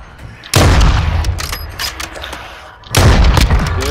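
Two heavy, booming sniper shots in a first-person shooter game, loud and close, about two and a half seconds apart, each with a long rumbling tail.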